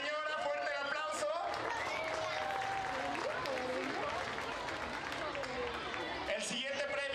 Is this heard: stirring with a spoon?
no